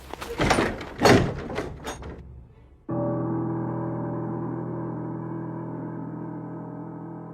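A door shutting in a Filipino horror tale, heard as a few heavy, close thuds in quick succession that give way to a steady, low ominous drone.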